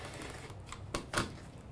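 A rotary cutter slicing quilt fabric strips along a ruler, heard as two or three quick close crisp swipes that are faint overall, with no voices.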